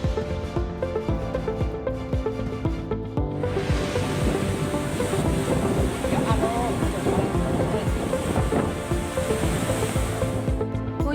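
Strong wind roars continuously during a storm in Banyumas, Indonesia, with a dense, rushing noise, loud and close, resembling heavy surf, with faint voices buried underneath.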